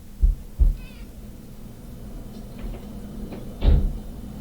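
A pet cat lets out a brief meow near a few dull knocks like a cupboard or door opening and closing in a quiet room, with a heavier thump near the end and no talking.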